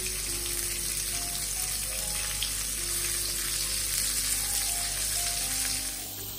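Halloumi-style cheese frying in olive oil in a pan, giving a steady close sizzle and crackle that stays dense and even throughout with no voices.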